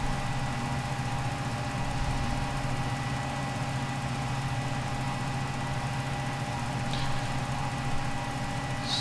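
Jetstream 41 turboprop in a flight simulator climbing on a single engine after an engine failure, a steady droning hum with a constant tonal whine, unchanging throughout and without speech.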